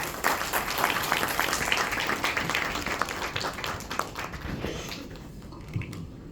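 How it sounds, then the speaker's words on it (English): A crowd claps in sustained applause, a dense patter of many hands that fades out toward the end. "May I have a round of applause for Dr. Avinash?"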